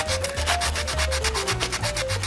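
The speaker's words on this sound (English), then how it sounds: "Then finally take some sandpaper" Sandpaper rubbed back and forth on wood at a workbench, a paper towel rack project, in quick rhythmic strokes, close and loud with a faint hum underneath.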